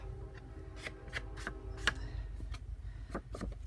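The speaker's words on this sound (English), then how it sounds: "I did not cut the back, so I need to trim just a smidge off the back." Scissors trimming a small strip of paper off the back of a handmade junk journal booklet, a series of soft, quiet snips and paper rustles, close and alone.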